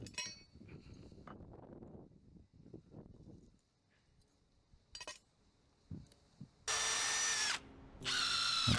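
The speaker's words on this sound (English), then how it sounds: "I put in one screw, squared up my joist, and then locked in that second screw." Screws are driven into a wooden shed floor joist with a power drill: two loud, sustained whining bursts near the end, after quieter knocks and shuffling handling noises.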